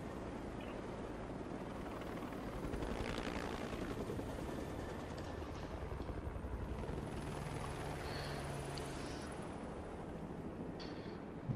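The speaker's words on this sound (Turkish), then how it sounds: "Helikopterdeyiz gene." Helicopter rotor and engine drone in the game Ghost Recon Breakpoint, a steady, loud, continuous wash of noise with low throbbing that holds unchanged throughout, with no speech.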